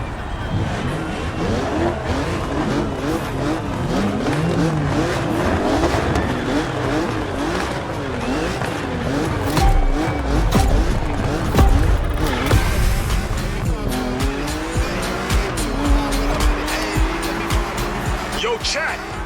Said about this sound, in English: You're shifting gears when the sound of your engine asks you to.